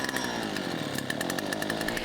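A repaired petrol lawnmower engine runs at a steady, buzzing pace, loud and close, with no voices over it for about two seconds.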